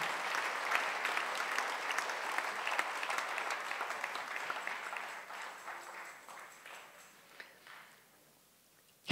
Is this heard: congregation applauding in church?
yes